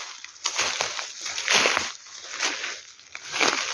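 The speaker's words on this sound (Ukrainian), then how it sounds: "набирають воду" Water sloshes and splashes in uneven bursts, close by, as water is scooped or poured into a container in repeated pulses, in a forest.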